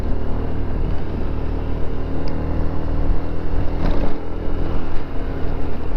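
A 1985 Honda Elite 150 scooter climbing uphill on a winter ride, its engine a steady loud drone mixed with heavy wind rush across the microphone, no voices.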